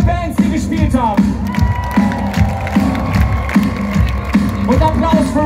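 A concert crowd cheers, whoops and applauds for the bands at a live show, a dense, loud roar of shouting voices and clapping that continues steadily throughout, with musical tones faintly underneath.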